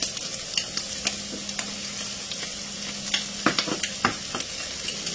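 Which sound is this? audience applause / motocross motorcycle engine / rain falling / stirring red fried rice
stirring red fried rice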